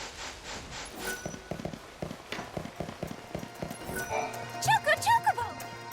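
A chocobo runs in Lightning Returns: Final Fantasy XIII, a quick series of soft rhythmic footfalls followed by brief high chirping bird-like calls near the end, with faint music beneath.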